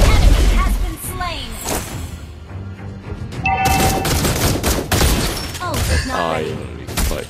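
Granger's ultimate in the Mobile Legends video game: rapid bursts of gunfire and booming impacts mixed with game effects, under a character's spoken voice lines.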